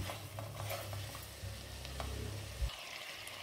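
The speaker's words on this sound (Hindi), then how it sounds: "दही डाल के इसको आपने भून लेना" Chicken fries with yogurt in a karahi, a close steady sizzle with stirring scrapes and clinks over it, ending in a louder scrape and a quieter tail.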